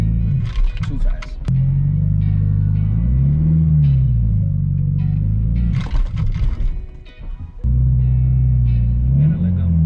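A manual car fitted with a racing clutch revs loudly and unevenly during launch attempts. The engine note swells and sags, dips briefly near the end, then roars back up.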